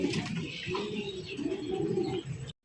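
Fancy and racer pigeons coo close by at a market, soft throaty repeated calls overlapping for a couple of seconds before cutting off.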